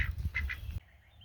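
Ducks kept in a garden beside a water feature give several short, nasal quacks close by, then fall quiet.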